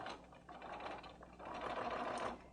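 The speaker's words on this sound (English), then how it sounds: "And then I'm going to stitch my little seam." A sewing machine stitching a neckline binding seam runs in two close mechanical bursts with a short pause between, a soft rapid whirring clatter and no talking.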